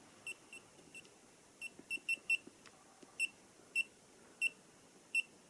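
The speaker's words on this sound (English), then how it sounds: "The volume of the beeper." The beeper of a Fnirsi LC1020E LCR meter gives a series of short, faint, high electronic beeps, irregular at first and then spaced evenly about every half second, with soft button clicks between them.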